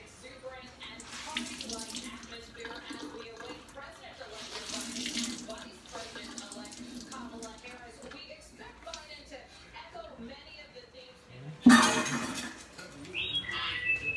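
Tap water running into a sink as a tie-dyed immersion-dyed shirt is rinsed, a soft steady splash with a person talking over it and a louder burst of water near the end.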